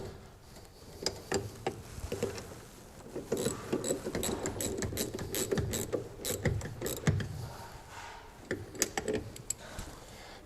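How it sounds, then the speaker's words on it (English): A socket ratchet tightens the nuts on a Triumph TR6 brake master cylinder, with close, crisp clicking in short bursts and pauses between strokes over a low workshop hum. "we can put our socket and tighten them up"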